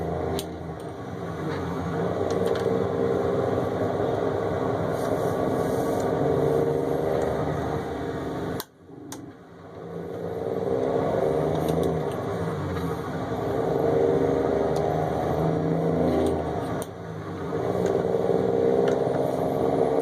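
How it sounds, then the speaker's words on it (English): A 605 hp Cummins N14 truck engine paired with an Eaton Fuller 18-speed gearbox in American/Euro Truck Simulator drones steadily and loudly at cruising revs, broken by a brief drop near the middle before the hum resumes. "this truck is currently equipped with a 605 horse N14 backed by an Eaton Fuller 18 speed"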